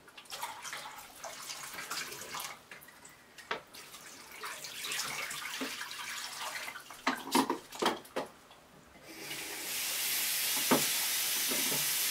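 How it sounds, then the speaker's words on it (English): Water from color film developing runs and gurgles as it drains, with scattered clunks and splashes, then a steady rushing hiss takes over near the end. "Let the water drain."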